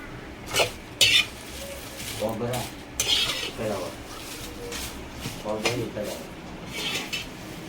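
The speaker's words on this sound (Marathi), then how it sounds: "सगळे मसाले मस्त असं भाजून घ्यायचे आपल्याला" A spoon scrapes and clinks against a pan in irregular strokes as dry spices are roasted and stirred, with a faint crackle underneath.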